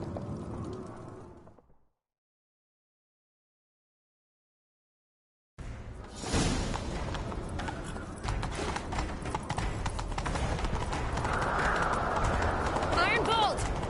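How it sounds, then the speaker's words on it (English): Horse hooves clip-clop in a fast chase gallop in The Witcher 3, loud and steady after a silent gap, with birds calling and voices shouting over the hoofbeats. "Grab a horse, we'll chase him down."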